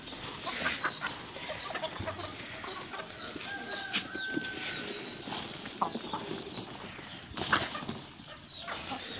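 Chickens cluck continuously in a busy, scratchy outdoor mix, with scattered short calls and a brief flutter, no talking.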